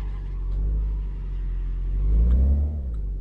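A car in the My Garage video game runs with a steady low engine rumble, then revs up and whines higher before easing off again.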